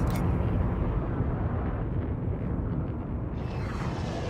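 Spaceship engines boost at full power in a space video game, making a loud, steady, dense roar. The rumble holds for several seconds with a slight swell near the end.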